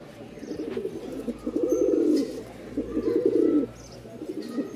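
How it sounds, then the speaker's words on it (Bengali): Pigeons at the Mirpur pigeon market giving low, throaty coos in two or three rolling phrases, fairly close and moderately loud over a quiet background hum. "কবুতর একদম পাগলা ডাকের কবুতর"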